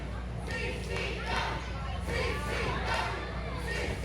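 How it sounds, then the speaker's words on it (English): A wrestling crowd at an independent tag team title match cheers and applauds steadily for both teams, the noise swelling in waves that stay loud throughout. "Crowd showing appreciation for both teams."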